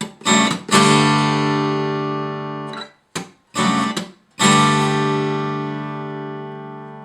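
Fingerpicked acoustic guitar notes ring out clearly, a short phrase of plucked tones and a final strum left to sustain and fade.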